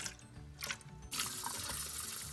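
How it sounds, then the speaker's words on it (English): Vinegar poured into the tank of an ultrasonic humidifier for cleaning, a close, quiet liquid sound that begins as a brief splash and trickle and then settles into a steady stream filling the container. "In order to get all of this inside cleaned up, we'll pour the vinegar right inside."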